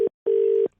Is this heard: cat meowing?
no